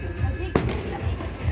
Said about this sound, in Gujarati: ફટાકડા જોરદાર ફૂટે છે